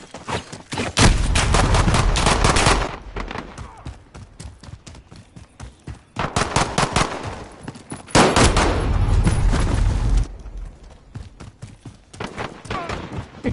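Bursts of Call of Duty gunfire come in long, dense rattling volleys, loud and close, separated by quieter gaps, with a voice briefly audible.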